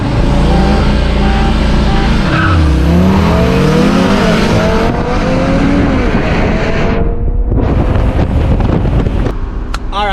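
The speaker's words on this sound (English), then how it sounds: "My tires were squealing and I was gripping" A stage 2 APR-tuned 2016 Golf R launches hard, its engine climbing loudly through the revs while tires squeal, with heavy wind buffeting on the microphone.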